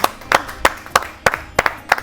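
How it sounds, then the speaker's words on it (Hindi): Loud, sharp handclaps at a Holi kavi sammelan poetry gathering, arriving in a steady rhythm of paired claps, close and clear with no talk over them. "जोरदार ताली बजाइए"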